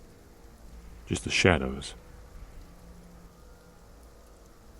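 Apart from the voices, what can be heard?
rain falling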